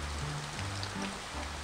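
Rain falls steadily in the Arkanfunkel Adventures video game at the entrance to a mountain area, a constant hissing patter with faint low game tones underneath and no speech.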